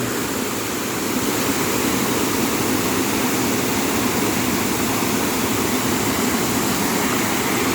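Steady, dense roar of a waterfall in a forest, loud and continuous with no breaks, like standing close to the falling water.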